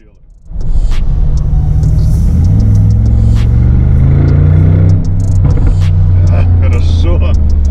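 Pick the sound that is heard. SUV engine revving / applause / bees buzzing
SUV engine revving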